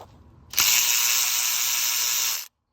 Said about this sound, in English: Thank goodness for electric ratchets.